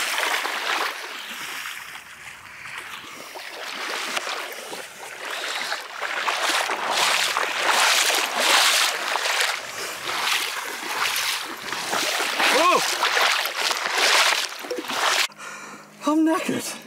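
Water splashing and rushing on a kayaking journey near Killin, Scotland, a steady churning wash that rises and falls close by, with a few sharper splashes toward the end.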